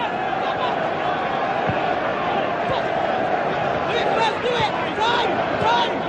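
A large football crowd at Stamford Bridge during Chelsea vs Middlesbrough, a dense, steady roar of massed voices heard from a distance, continuous throughout with chanting swelling slightly toward the end.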